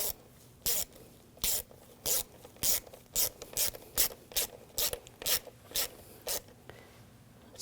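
A hand ratchet clicks in quick bursts as it tightens a bolt on a 2006-2009 Audi S4 4.2L V8 during camshaft position sensor replacement, about a dozen crisp, close ratcheting strokes in steady rhythm with no talking.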